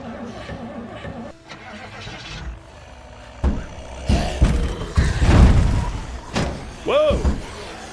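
A car in the Project Zomboid zombie-survival game, with a dead battery, cranks as someone tries to start it; the engine turns over under a door slam and other clatter, with a short burst of speech.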